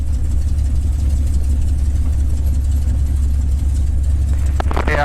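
A North American P-51 Mustang engine running steadily during taxi, a loud, deep, even rumble close by that holds throughout, with a brief higher mechanical whine near the end.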